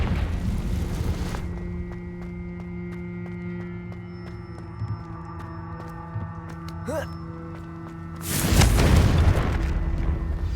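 Confringo blasting spell in the Hogwarts Legacy video game, a loud burst at the start and a deep booming explosion near the end, with a low droning hum and faint music in between.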